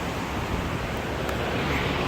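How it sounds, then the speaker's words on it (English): Strong gusting wind during a wind storm outdoors, a loud, continuous roar buffeting the microphone throughout, with no one speaking. "It's so windy."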